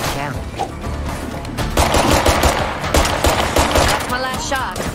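Gunfire in the State of Decay 2 video game, a rapid burst of loud cracking shots in the middle of the stretch, with someone talking over some of it.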